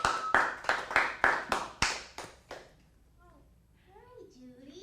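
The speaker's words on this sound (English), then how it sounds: "let's give them a big round of applause." Applause for a teen improv troupe in an acting class: about eight sharp, evenly spaced claps or short bursts of clapping over two and a half seconds, then quiet with faint voices and chirpy sounds.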